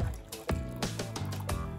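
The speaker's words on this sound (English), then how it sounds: "Start by getting a glass and pour in some of the vinegar." Vinegar poured from a container into a glass, a close liquid splashing and trickling that fills the glass in a few quick gurgling bursts, with no talking.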